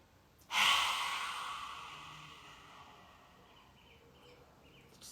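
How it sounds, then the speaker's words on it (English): One long, deep inhale during a qigong breathing exercise, close and audible, rising sharply and then slowly fading into quiet, with a faint bird call in the background. "Breathe in."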